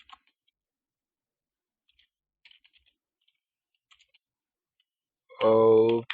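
A pip install command is typed on a computer keyboard in a terminal. Sparse, faint keystroke clicks come in small clusters over a quiet background, and a short loud voice-like burst cuts in at the very end.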